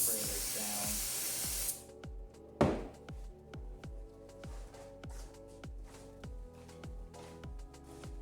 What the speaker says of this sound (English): So let's go ahead and spray this down.